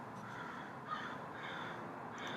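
Crows cawing outdoors, a few calls rising over a steady background hiss, fairly distant and moderately faint across the short span.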